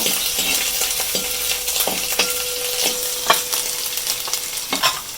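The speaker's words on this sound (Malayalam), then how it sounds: "നമുക്കേ വെളുത്തുള്ളി ഇട്ട് കൊടുക്കാം ഇട്ട് കൊടുക്കാം ചുണ്ട വെളുത്തുള്ളി ചുണ്ട ഇഞ്ചി ഇട്ടിട്ടുണ്ടമ്മ" Garlic and ginger frying in oil for a kiwi pickle, a steady bright sizzle with a few sharp spoon clinks and scrapes against the pan, close up and without speech.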